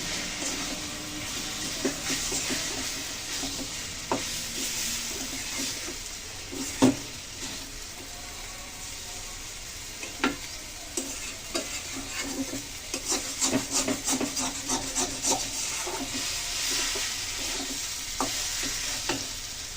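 Cumin and garam masala powder being stirred into a cabbage ghonto in a pan, with a steady close sizzle broken by scattered scraping clicks of the spoon that cluster more densely toward the end.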